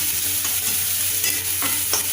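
Onions sautéing in a pan for a chicken gravy, a continuous close sizzle broken by a few scraping stirs of a spoon, with no voices.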